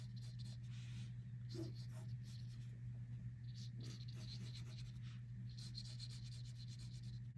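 A pencil rubs and scratches across paper while sketching a cartoon unicorn or pegasus, soft intermittent strokes of drawing over a steady low background hum, with quiet close-up activity and no clear talk.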